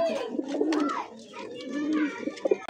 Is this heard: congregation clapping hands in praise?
no